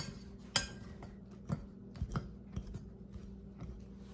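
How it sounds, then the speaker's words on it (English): Pastry blender cutting shortening into flour for a pie crust, heard as a few soft, scattered scraping clicks against a bowl, close and quiet, with no talk. "now we'll use a pastry blender and get this all mixed up"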